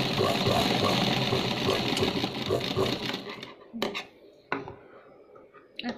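A sewing machine runs steadily while stitching a blouse shoulder seam, a continuous whirring hum that stops partway through, followed by a few clicks and knocks as the fabric is handled.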